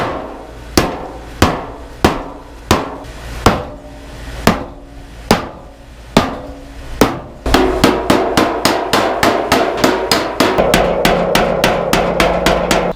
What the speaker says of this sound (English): try and tap it out from the back side here